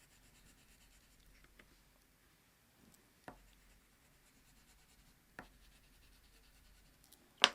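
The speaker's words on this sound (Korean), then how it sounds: "그림을 그릴 때는 최대한 오일 파스텔을 꼭 눌러서" Oil pastel strokes on paper for a landscape drawing: faint, close scratchy rubbing with a few sharper taps and scrapes, otherwise quiet.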